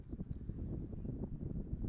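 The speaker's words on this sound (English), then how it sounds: "It's a little windy here today." Wind buffets a microphone outdoors at a boys' soccer combine, a low, uneven rumble with soft gusty bursts, close and fairly faint.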